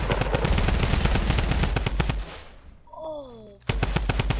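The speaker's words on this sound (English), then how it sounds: "just spammed a compact SMG" Compact SMG fire in an online shooter video game: loud, sustained rapid automatic bursts that stop briefly while a short speech-like sound is heard, then the rapid fire resumes.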